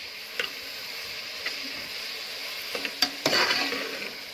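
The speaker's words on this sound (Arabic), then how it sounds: "هحمرها بقى يعني تكاد تكون محروقه شويه عشان تطلع الرز عندي بني جامد" Rice for sayadiyah frying in a pan as it is cooked to a deep brown, with a steady close sizzle broken by a few sharp scrapes and clinks of stirring and no talk.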